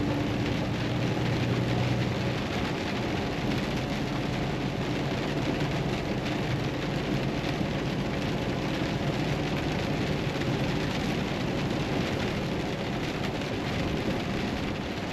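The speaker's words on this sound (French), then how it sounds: "il pleut des fois en Bourgogne" Steady, dense rain drums on a Volvo truck in Burgundy, France, a continuous broadband hiss and patter with no gaps, fairly loud and close, with no voices.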